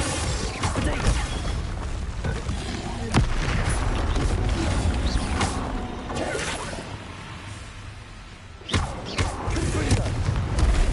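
Confringo and Bombarda explosive spells in Hogwarts Legacy, a string of sharp cracks and booming blasts spread over the combat with rumbling mechanical clatter between hits, fairly loud.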